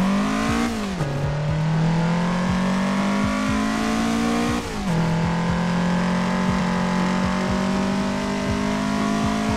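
A Toyota AE86 Trueno engine in Assetto Corsa revs hard and climbs in pitch, dropping twice at gear changes before pulling up again, loud and sustained with no talking.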